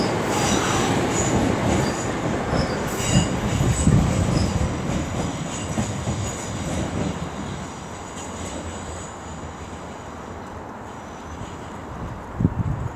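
A Class 323 passenger train rumbles past nearby at Aston with rolling wheel noise and faint rail squeal, loud at first and gradually fading as it moves away.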